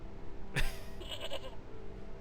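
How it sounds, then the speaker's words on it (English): A goat bleats in the video game Broken Sword, one sharp transient followed by a short wavering bleat, fairly faint over steady background game ambience, with no talk. "Why was there a goat noise?"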